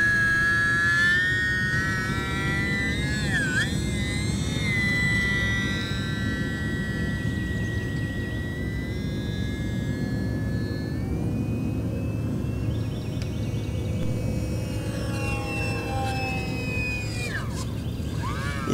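E-flite UMX Timber X, a small 570mm electric RC airplane, flying with a continuous buzzing motor whine whose pitch swoops up and down as it maneuvers, steady and fairly close, no talking.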